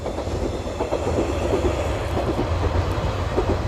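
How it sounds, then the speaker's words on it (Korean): Train rolling past on a coastal railway along the East Sea shore, a loud steady rumble with rhythmic clickety-clack of wheels over rail joints, close and continuous with no talking. "기차 갑니다."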